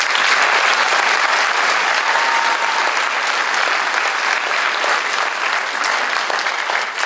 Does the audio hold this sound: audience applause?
yes